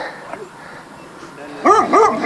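A dog growls and barks close by in a playful tussle, a low rumbling start giving way to a few loud, wavering barks near the end.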